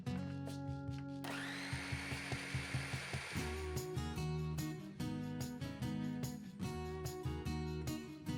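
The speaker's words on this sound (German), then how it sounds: "Ich habe das wieder im Multizerkleinerer gemacht" A food processor motor whirs loudly, pausing and restarting, with rhythmic chopping pulses as the blades churn sour cream filling for a cake; no one speaks.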